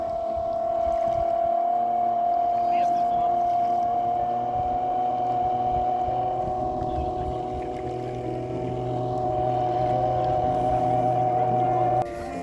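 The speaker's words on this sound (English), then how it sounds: "The electric motor has a max output of about 8000 watt, 8 kilowatt." An electric foiling boat motor of about 8 kilowatts whines steadily on the water, a loud sustained tonal hum with a low drone beneath that holds for several seconds before cutting off near the end.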